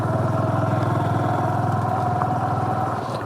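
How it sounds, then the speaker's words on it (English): A Honda Super Cub motorcycle on narrow tires rides over chunky, sharp rocks in a forest, its small engine putting out a steady, close, even drone with faint clattering throughout. "These narrow little tires on the Cub don't like it much"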